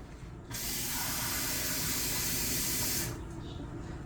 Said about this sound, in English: I'm going to add 3 cups of water.